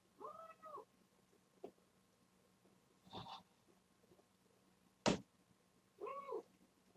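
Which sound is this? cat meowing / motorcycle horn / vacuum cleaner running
cat meowing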